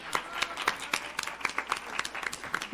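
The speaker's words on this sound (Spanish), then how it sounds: "las recibimos con un fuerte aplauso." An audience at a round-table event applauds to welcome panelists, a fairly faint, steady patter of scattered claps from a modest crowd.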